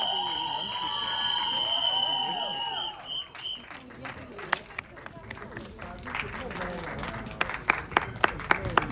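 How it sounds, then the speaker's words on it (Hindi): An audience at a Bollywood film trailer launch event applauds and cheers steadily as stars arrive, a dense roar of clapping under a loud amplified host voice, with sharp camera clicks near the end. "इतनी कंसिस्टेंसी से तालियां"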